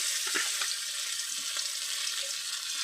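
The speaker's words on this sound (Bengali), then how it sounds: "এবার মাছ দিয়ে দেবো, তেল গরম হয়ে গেছে" Tilapia fish frying in hot oil in a home kitchen, a steady soft sizzle with faint crackles and small pops running throughout, alone without talk.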